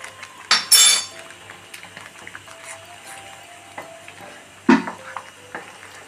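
Beetroot halwa cooked in ghee in a pan on medium flame, with scraping stir strokes, a few loud clinks of a spoon against the metal and a faint low sizzle underneath; no talking.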